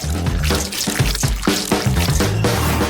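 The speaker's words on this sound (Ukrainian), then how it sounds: "В неї я і вилью нашу желейну суміш" Jelly mixture pours from a container into a silicone mould, giving close wet splashing and dribbling sounds in uneven bursts with small drips between them, no voices.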